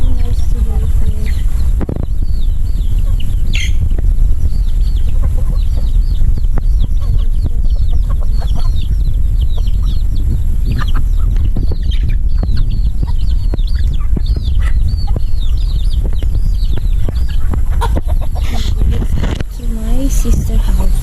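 Chickens on a Filipino countryside farm cluck and chirp continuously at close range, with some outdoor clatter in the background and a person talking over them throughout.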